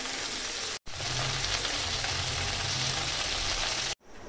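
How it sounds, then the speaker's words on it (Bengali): Chopped onions frying in mustard oil in a pan, a steady bright sizzle with a soft low bubbling, continuous and close, briefly cut off twice by edits, with no talking. "সরিষার তেল দিয়ে ভেজে নিচ্ছি"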